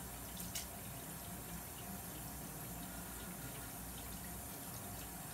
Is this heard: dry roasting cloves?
no